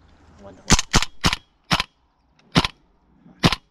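Six sharp airsoft gun shots crack out close and loud in an uneven series during an airsoft game. Each one is short and separated by brief gaps.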